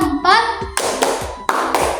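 Hand clapping in a classroom during a counted clapping game, a few sharp close claps in a short pattern with a voice and a teacher speaking over them.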